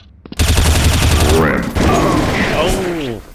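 Rapid automatic gunfire in a shooter video game on a bot server map, a sustained loud burst of shots mixed with game effects and talk.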